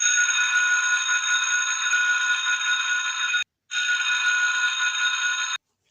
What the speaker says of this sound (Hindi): फिर छुट्टी की घंटी बजी